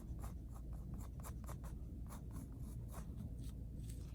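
Pencil or brush drawing a butterfly outline on a painting surface: faint, quick rhythmic scratchy strokes repeating steadily, close and quiet, with no voices.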